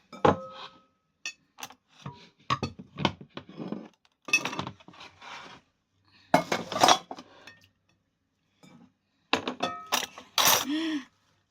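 Salad being served into a bowl with utensils, irregular clinks and scrapes of cutlery against the bowl in scattered bursts, close and fairly quiet, with no talking.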